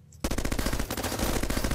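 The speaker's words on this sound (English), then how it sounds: "Machine gun." Rapid machine gun fire in the video game Bionic Dues erupts suddenly after a brief quiet moment, a dense, loud stream of evenly spaced shots continuing to the end.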